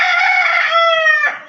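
A Boston Roundhead broodcock rooster crows once, close and loud, a long drawn-out call that holds steady before breaking off, with no talk over it.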